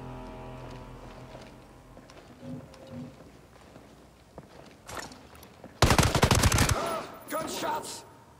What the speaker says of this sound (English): shots! Watch for hostiles!